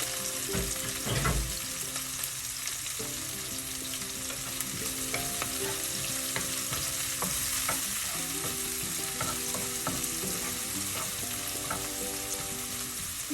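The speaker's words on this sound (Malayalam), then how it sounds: "പച്ചമുളക് കറിവേപ്പില ഇത്രയും ചേർത്ത് ഇളക്കുക" Green chillies and curry leaves sizzle in hot oil in a pan for an ivy gourd stir-fry, a constant close crackle broken by repeated scraping stirs.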